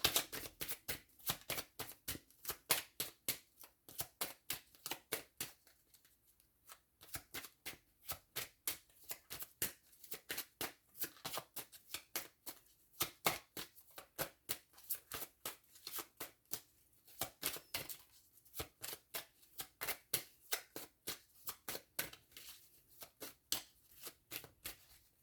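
A deck of tarot or oracle cards being shuffled by hand before drawing a card, a long series of quick riffling bursts with brief pauses between them, close and clear with no talking.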